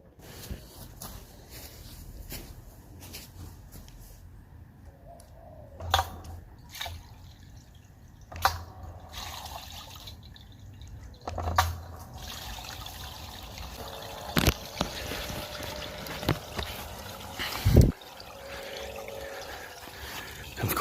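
A Bucket Blaster water pump runs and moves water outdoors, giving a low steady hum with dripping and splashing on top and a few sharp clicks and knocks along the way. No speech is present.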